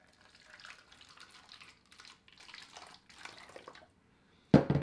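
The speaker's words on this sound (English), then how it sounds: "So now I have lots of warm water. I'm going to pour some in here just a little bit." Warm water trickles and splashes into an empty plastic milk jug in short uneven bursts with brief pauses, quiet and close, ending in a louder knock or clatter.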